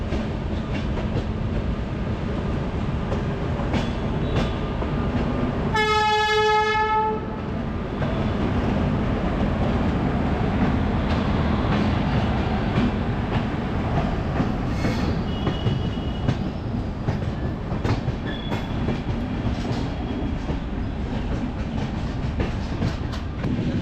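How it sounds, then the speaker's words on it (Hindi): Ravi Express passenger train (14633), running from Amritsar toward Pathankot, rumbles steadily along the tracks, with a brief loud tonal horn blast or wheel squeal around the middle. "ट्रेन के नंबर की बात करूं तो 14633 रावी एक्सप्रेस का नंबर है"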